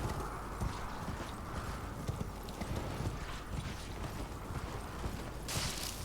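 Steady clip-clop of horse hooves at a brisk pace in the video game Elden Ring, continuous and fairly close, with a faint mechanical creak near the end.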